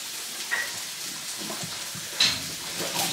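Onion frying in a pan for an omelette gives off a steady sizzling hiss, with occasional scraping and stirring clatters close by and no voices.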